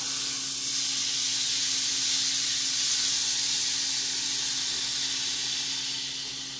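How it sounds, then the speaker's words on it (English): Chimichurri-marinated skirt steaks sizzle in a hot pan while being charred, giving a steady, loud hiss that fades slightly at the end. "We are trying to char this. So let's just flip over all the steaks."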